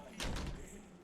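A heavy door banged in a horror audio drama, one loud thudding impact with a short rattle, followed by faint room noise.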